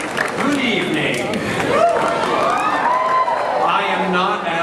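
Comic Con panel audience cheering, whooping and clapping in a large hall, a steady crowd roar with overlapping voices throughout.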